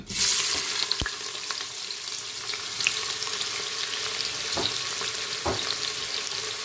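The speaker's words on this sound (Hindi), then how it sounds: "इसको हमने फ्राई करने हैं, ब्राउन करने हैं।" Onions sizzle and fry steadily in a pan for chana mash tarka daal, a dense crackling hiss throughout with a few sharp clinks of a spoon against the pan, no voices.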